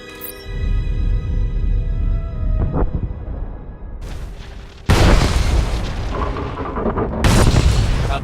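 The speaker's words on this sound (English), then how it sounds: "The charges have detonated." Detonated charges exploding in the Star Wars: The Old Republic video game, heard as a deep booming blast that gives way to rumble, then a second sudden loud burst late in the clip, with no talking.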